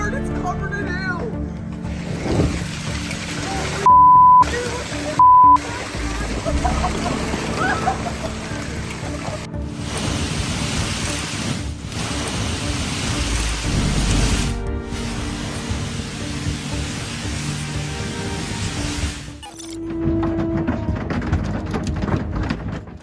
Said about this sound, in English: Hail that big is falling at around 60 miles an hour by the time it reaches the water.